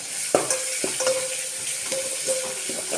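Onions sautéing in a pan with asafoetida for a lentil sambar, a constant close sizzle broken by several sharp spatula scrapes and taps against the pan, no talking.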